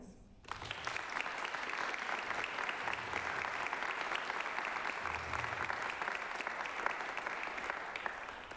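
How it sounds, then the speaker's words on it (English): An audience applauds graduating scholarship students at a celebration event, the clapping starting abruptly and continuing as a dense, sustained wash at a moderate distance, fairly quiet overall, with no clear speech on top. "And the biggest round of applause for them, please."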